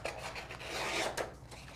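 Paper cardstock being trimmed for a 3D floral card, a continuous scraping, rasping slide lasting under two seconds with a brief louder stroke near the end, close and alone with no voices.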